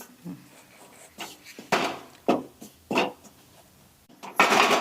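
Ragi flour is roasted in a pan while a utensil scrapes it in short, intermittent strokes, each a brief rasping swipe, close by and moderately loud against a quiet background.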